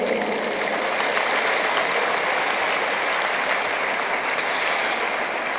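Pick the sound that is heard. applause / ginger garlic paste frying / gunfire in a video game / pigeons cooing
applause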